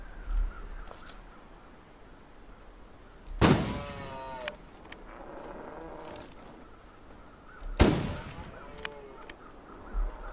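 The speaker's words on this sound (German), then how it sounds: "Das waren drei Schuss." Two loud rifle shots ring out in the survival video game The Long Dark during a moose hunt, each one sharp with a trailing echo, separated by a few seconds of quiet outdoor ambience.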